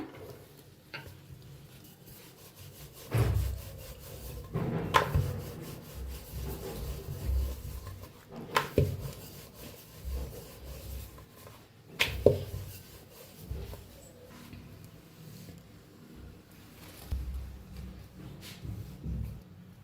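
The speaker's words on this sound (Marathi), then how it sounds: "लाटून घेऊया पीठ लावून" Dough for an egg flatbread, dusted with flour, is rolled out with a rolling pin, giving soft rubbing and rolling strokes in uneven bursts with occasional light knocks, close and fairly quiet.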